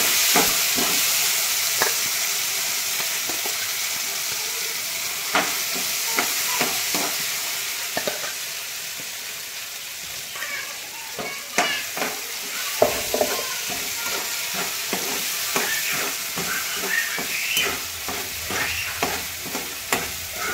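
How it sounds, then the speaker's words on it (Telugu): Tempering spices sizzle and crackle in hot oil while a spoon stirs and scrapes the pan in irregular, clattering strokes. "ఫైనల్గా అయితే పచ్చడి తాలింపు పెట్టడం జరుగుతుంది"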